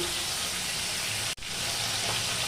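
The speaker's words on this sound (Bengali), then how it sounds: "একটু কড়া করে মাছটাকে ভেজে তুলে নিচ্ছি" Continuous hissing sizzle of tangra fish frying in hot oil, steady and close, with one brief sharp dropout partway through.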